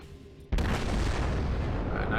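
Battleship guns fire in World of Warships with a sudden loud boom. The blast is followed by a long, dense rumbling roar that fills the rest of the moment.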